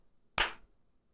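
A single sharp hand clap, close and fairly loud, standing alone against a near-silent background.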